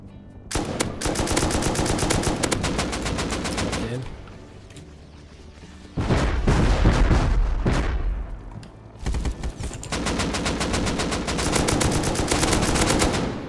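Gunfire in the video game Rust, with loud, rapid automatic bursts of shots that pause briefly and resume in sustained volleys, some heavier booms mixed in, and a voice talking between them.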